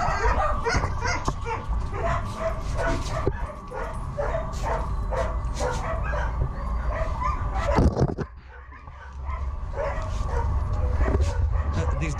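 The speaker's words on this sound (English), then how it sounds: "So this dog here'd rather be in here, me petting it, than outside." Dogs at a dog track yip, bark and whimper close by for attention, short repeated calls over a steady low background hum, with someone talking throughout.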